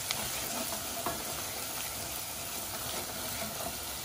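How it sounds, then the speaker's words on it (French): Onions caramelizing in a pan for traditional couscous, giving a steady close sizzle and hiss of frying with occasional faint stirring scrapes, no voices. "On va faire des oignons caramélisés."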